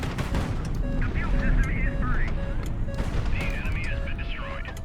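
Ship guns in the video game Highfleet fire in a rapid, dense barrage of booms and cracks throughout, mixed with electronic tones and warbling game effects, no talk heard.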